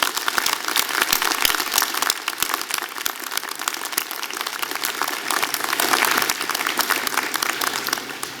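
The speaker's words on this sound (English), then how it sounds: "Please, may we have a round of applause for the incredible contribution of these" Audience applause at a university convocation ceremony, steady and sustained for several seconds, a dense crackle of many hands clapping in a large hall.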